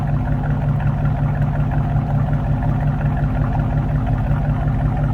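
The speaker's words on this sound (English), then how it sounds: "There's a nice deep throaty exhaust." A 1969 Ford Mustang Mach 1 idles at the rear with a deep, throaty exhaust note, a steady low rumble that holds constant and close with no voices.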